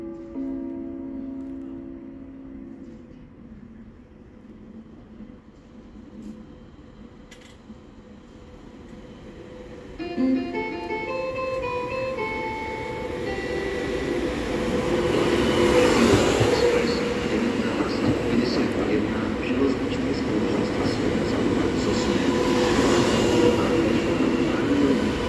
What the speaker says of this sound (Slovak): Osobný vlak 51 železničnej spoločnosti Slovensko zo smeru Lipany, pravidelný príchod 15 hodín 12 minút, príde k nástupišťu 2